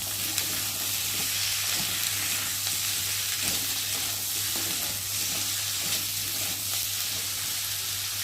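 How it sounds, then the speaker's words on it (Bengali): Cut potatoes and green chillies frying in oil produce a loud, steady sizzle and hiss, with soft stirring scrapes throughout and a constant low hum underneath. "আর এখন আমি দিয়ে দেবো কেটে রাখা আলুগুলোকে, দিয়ে একটু ভালো করে ভেজে নেব।"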